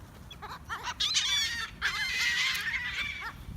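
Blackbirds squabble at a park, giving a flurry of shrill, chattering calls and whistles that rise and overlap in the middle, set against a low background rumble.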